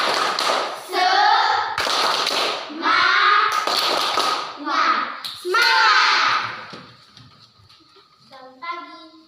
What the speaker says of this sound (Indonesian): Tepuk semangat untuk kelompok 3.